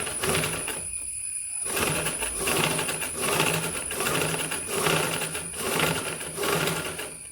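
Sewing machine stitching a small mobile pouch, running steadily with a rhythmic mechanical whir that pauses briefly near the start and then continues at close range.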